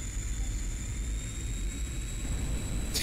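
The jet engine of a MiG-21bis in DCS World gives a steady, loud roar inside the cockpit, a continuous drone with a thin high whine running throughout and no talking.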